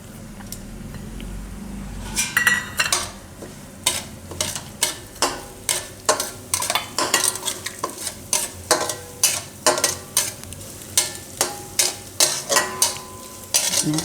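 Semolina roasts in ghee in a kadai as a spoon scrapes and stirs in quick, regular strokes, sharp metallic scrapes repeating over a soft sizzle, close and fairly loud throughout.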